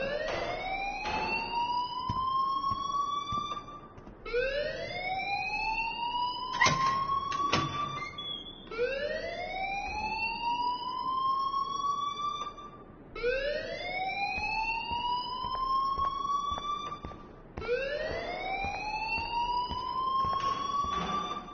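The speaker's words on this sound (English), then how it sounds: "please turn off that alarm since that's your job" A building alarm in a video game wails in repeated rising sweeps, roughly five cycles each lasting about four seconds, loud and continuous with brief gaps between cycles.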